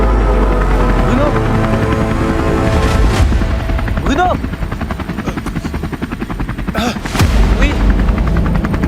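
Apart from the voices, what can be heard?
helicopter arriving, from a short film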